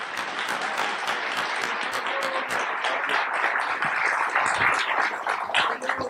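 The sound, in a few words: audience applause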